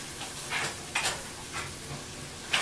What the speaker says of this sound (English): Stir it up real quick.